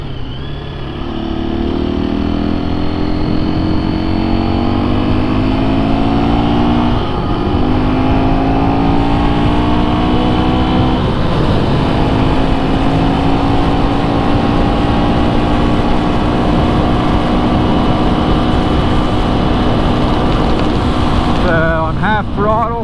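A 2024 KTM 350 EXC-F dirt bike ridden at steady half throttle around 58 to 65 mph on stock gearing, its engine drone loud and continuous with slowly rising pitch, gear shifts and wind rush, plus a brief voice near the end.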